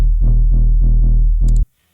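Booming 808 bass line in a Jersey club beat, a run of sliding low notes with an extra note tucked into the pattern, loud and up front with a short high blip near the end before it cuts to silence.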